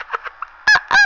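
Goose-like honks from a duck race in a game: three soft, short honks followed by two loud, harsh, drawn-out honks, close and alone with no talk.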